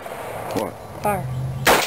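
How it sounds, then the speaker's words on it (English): A 30-30 rifle shooting spray paint cans in a fire, heard as a loud sharp crack near the end, preceded by a couple of brief bangs and voices. "Shoot the 30-30."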